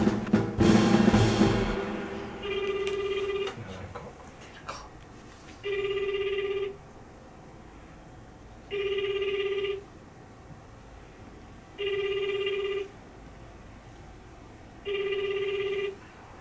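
Outgoing telephone call ringing a prize winner, a handset ring-back tone repeating five times in regular one-second bursts separated by gaps, clear and close after a brief burst of noise at the start.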